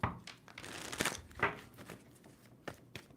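A tarot deck shuffled close by, soft papery riffles and slides in a few short bursts over a quiet room, with no talking.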